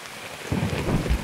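Thunderstorm in the game Escape from Tarkov: steady rain hiss with a deep thunder rumble rolling in halfway through and building, loud and close, with no talking.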